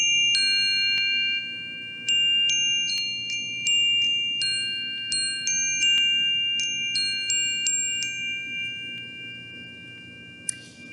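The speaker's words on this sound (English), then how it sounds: "They're hollow inside, and they have a little bell that shakes around." Small hollow bells with loose inner clappers tinkle and ding in scattered, ringing strikes, each tone lingering and overlapping the next, close by with no talking.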